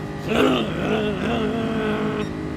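A race car engine in Gran Turismo Sport strains through its gears, its tone heaving and rising with a rough, truck-like drone that holds steady and close for a couple of seconds.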